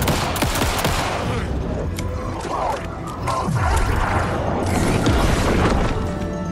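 Gunfire in Alan Wake 2 (Night Springs DLC), loud overlapping shots and booms filling the whole stretch with a heavy, continuous barrage.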